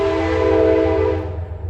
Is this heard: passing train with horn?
yes